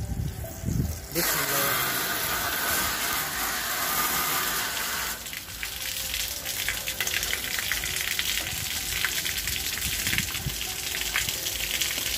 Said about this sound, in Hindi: हमने सिंपल इस पर पानी स्प्रे करना है।